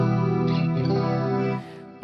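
Electric guitar run through a huge ambient reverb patch on a Fractal FM9 processor, a sustained chord swelling with chorus-like shimmer and long wash, loud and alone, then the tail dropping slightly near the end.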